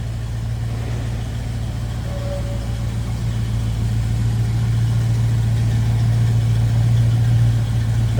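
A 1986 Chevrolet K10 pickup with a 350 small-block V8 idles steadily, its exhaust giving a deep, continuous low rumble close by with no talking.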